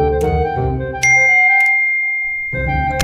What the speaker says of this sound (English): Huh? A text message?